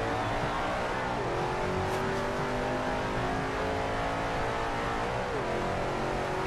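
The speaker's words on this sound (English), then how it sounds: "keep driving the Shelby" Shelby muscle car engine in the racing game Forza Horizon 2, a continuous loud engine drone that rises and falls with gear changes, no talking.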